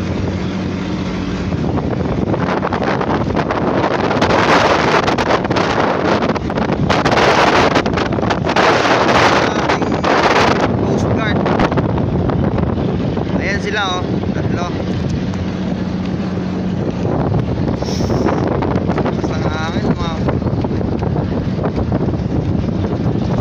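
Strong monsoon wind buffets a RoRo ferry at sea, a loud, constant roar of gusts and rushing water with engine rumble underneath, while people talk intermittently throughout.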